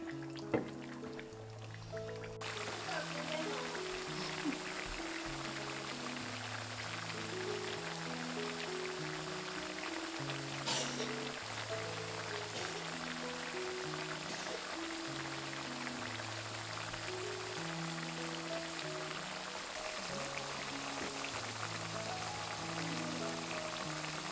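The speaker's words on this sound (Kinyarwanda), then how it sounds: "Ifiriti yacu rero reka tuyireke ishe yitonze" Potato chips fry in hot oil for Kenyan chips masala, a steady fizzing sizzle with scattered pops that carries evenly throughout over a faint background melody.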